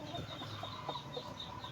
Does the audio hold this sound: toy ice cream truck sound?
no